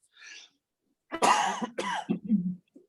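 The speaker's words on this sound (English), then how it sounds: "Sorry, I got a cough." A few harsh, close coughs in quick succession after a short breathy sound, then a brief pause before a last faint noise.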